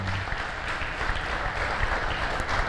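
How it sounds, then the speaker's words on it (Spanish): A crowd gathered for a talk at a school applauds with a dense, continuous patter of clapping throughout, moderately loud and close, with no speech. "Bienvenidos, recibámoslos con un fuerte aplauso,"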